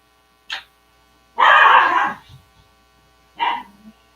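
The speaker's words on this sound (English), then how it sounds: "If you hear my dogs barking, just ignore it" Dogs bark in three separate bursts, a short yip, a longer louder volley, then a final bark trailing into a low growl, fairly close, with quiet gaps between and no talk.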